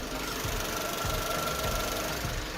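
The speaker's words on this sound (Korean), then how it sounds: "영상으로 엔진 소음 한번 담아보도록 하겠습니다" A 2019 gasoline four-wheel-drive imported SUV idles steadily nearby with its hood open, a smooth, even hum and a faint rhythmic ticking, no voices.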